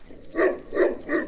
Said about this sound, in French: Et puis là, il y a un gros chien.